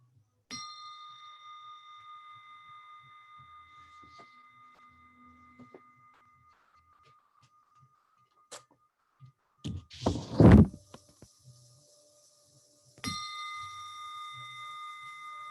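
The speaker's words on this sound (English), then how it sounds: "focus your mind to this bell sound" A meditation bell at a Buddhist center is struck once and rings out with a long, pure, fading tone. Soft knocks and a few dull thuds follow in the quiet, then a second clear strike rings near the end.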